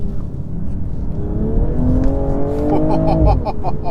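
A 2023 BMW M240i's B58 engine accelerates hard, its pitch climbing steadily through the gears, loud and close from inside the car.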